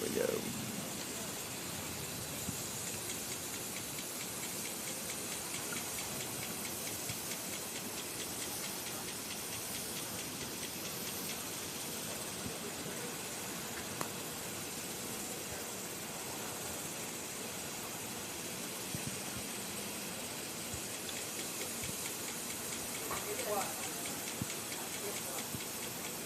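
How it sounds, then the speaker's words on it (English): Rain falling outdoors, a steady broadband hiss of drops that continues unchanged throughout, fairly loud and close, with no clear individual impacts. "Alright, it's starting to rain more."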